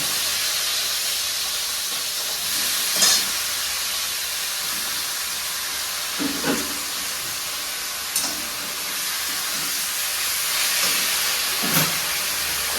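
Leafy greens with green chilli frying in hot oil make a steady, even sizzling hiss that runs throughout, with a few soft clatters from stirring and no voices.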